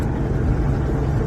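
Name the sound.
vehicle driving through a water crossing at Nolan's Crossing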